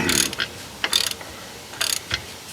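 Hand ratchet clicking as it loosens a bolt on the differential of a 2011 Saab 9-4x, short bursts of sharp metallic clicks in three separate strokes with quiet pauses between, close to the ear.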